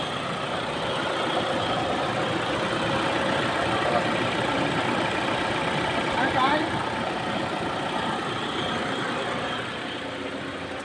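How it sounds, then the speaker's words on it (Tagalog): A Mitsubishi Adventure gasoline engine with a MAF sensor fault and check-engine light idles unevenly for about eleven seconds, a steady close mechanical drone with faint voices in the background. "Erratic idling"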